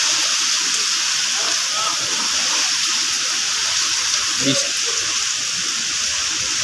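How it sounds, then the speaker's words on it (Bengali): Heavy rain from Cyclone Remal during an overnight storm, heard as a steady, loud broadband wash of downpour and wind hiss with no breaks, plus a faint brief knock partway through. "এত ঝড় হচ্ছে, এত বৃষ্টি হচ্ছে।"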